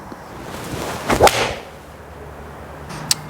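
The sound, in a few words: golf club striking a ball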